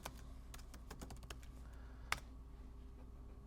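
Rapid, close keystrokes on a computer keyboard type out a quiz title in a quiet room, in quick irregular bursts with one sharper key press near the end.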